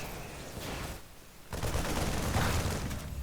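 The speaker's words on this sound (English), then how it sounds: "That guy got shot in the face." Gunfire in the StarCraft II real-time strategy game: faint, dense bursts of rapid shots that crackle continuously under the game's ambient noise, getting busier in the second half.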